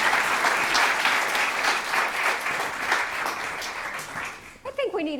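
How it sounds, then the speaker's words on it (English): A lecture hall audience applauds after a talk, dense sustained clapping that fades toward the end as a voice begins to speak. "another round of applause"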